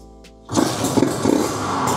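A Kawasaki Ninja motorcycle fitted with a carbon aftermarket exhaust starts up after a brief quiet moment and settles into a loud, aggressive rumble that holds steady and close.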